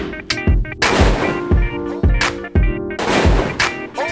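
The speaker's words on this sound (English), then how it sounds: "Using confetti in the final hero shot wasn't just because David uses it, but also to add color" Confetti cannons fire for the final shot of a perfume commercial shoot: a rapid series of about eight loud, sharp pops about half a second apart, each with a bright burst and short tail.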